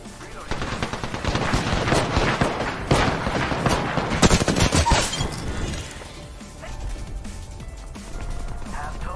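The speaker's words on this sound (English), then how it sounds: "those gunshots?" Gunfire in a shooter video game, with rapid bursts of automatic shots and sharp single cracks, loud and dense for several seconds before thinning into scattered quieter shots.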